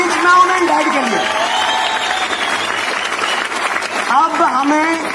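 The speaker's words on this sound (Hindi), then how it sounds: "गिव ए बिग हैंड, जोरदार तालियां रिच मॉम एंड डैड के लिए" An audience at a Hindi motivational talk claps steadily in a dense, sustained round of applause, with a voice speaking loudly over the clapping throughout.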